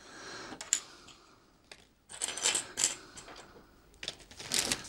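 Small plastic parts rattle and clack inside a plastic bag while a teleprompter is unboxed, in short scattered bursts of light clicking with quiet pauses between them, close and soft.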